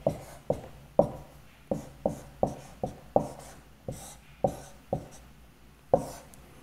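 Chalk or marker taps and strokes on a board as physics equations are written, a series of about a dozen sharp, close knocks at an irregular rhythm with short scratching between them, fairly quiet and without talking.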